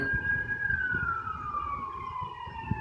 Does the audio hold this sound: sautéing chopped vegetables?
no